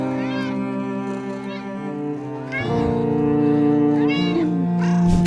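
A stuck, helpless kitten meows repeatedly in high, plaintive cries, close by, with a steady low hum underneath and no talking.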